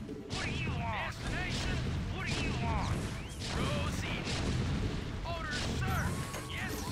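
Siege tanks firing in StarCraft: Remastered, heavy booming impacts and crashing blasts repeating every second or so amid battle noise, with someone talking over the top.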